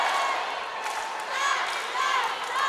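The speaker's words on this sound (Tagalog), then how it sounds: "And we have everybody in the crowd cheering" A crowd cheers throughout a women's collegiate volleyball finals match between Ateneo and Adamson in the 2022 V-League, a steady roar of many voices swelling slightly, with a commentator talking over it.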